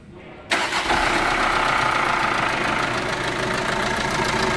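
A Volkswagen Amarok with a broken belt starts up: a short crank then the engine catches and settles into a loud, steady idle with a faint ticking knock.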